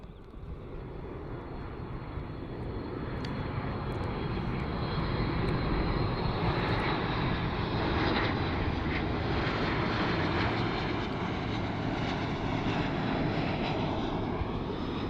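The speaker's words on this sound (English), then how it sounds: "And here's that Ryanair Max 200." A Ryanair Boeing 737 MAX 200 arriving at Copenhagen Airport from Edinburgh gives a steady, loud jet engine roar that swells slightly and holds for the whole stretch, with no voices over it.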